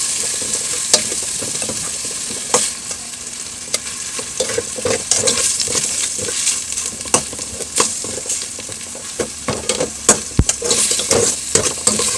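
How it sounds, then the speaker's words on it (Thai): Garlic sizzles and crackles steadily in a hot pan, with scattered sharp clicks of a utensil stirring and scraping throughout. "เอดกระเทียมหอมๆก่อน"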